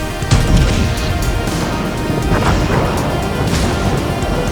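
Main guns of the battleship Massachusetts fire in a naval video game, a loud, dense, continuous roar of blasts and crashing booms filling the whole stretch.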